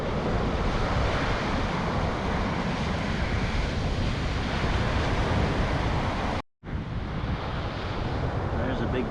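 Ocean surf washes steadily onto an Okaloosa Island beach, a continuous loud roar of breaking waves mixed with wind buffeting the microphone, broken by one brief silent gap.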